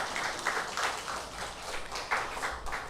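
A congregation at a Sunday church service applauds the choir in thanks, a brief, moderately loud patter of clapping with a few audible surges, heard on its own.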